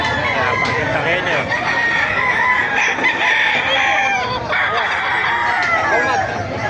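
Hens and a rooster at a Bocaue market, crowing and clucking loudly and continuously, close by, with people talking throughout.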